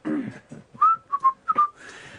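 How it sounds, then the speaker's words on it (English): A person whistles a short tune of several bright pitched notes, close by, after a few muffled spoken sounds at the start. "I will whistle."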